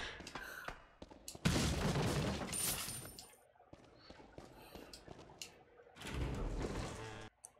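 Gunfire in Resident Evil 4 rings out in irregular bursts, a loud dense volley early, then scattered lighter shots and another heavy cluster near the end, with quiet gaps between.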